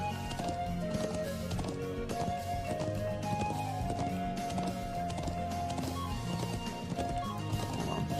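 Horse hooves clip-clop steadily in the video game Trails of Cold Steel as a character rides on horseback, a brisk repeating rhythm heard under a prominent music track, with no talk.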